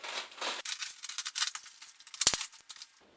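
A razor blade slices open the cardboard packaging of a sword shipment, giving a run of close, scratchy cutting and ripping strokes with a brief sharp snap near the end.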